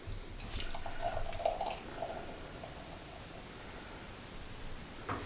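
Icelandic lager with 5% ABV pours into a glass, a soft, faint liquid trickle and fizz in the first two seconds that settles into quiet hiss, with a small clink near the end.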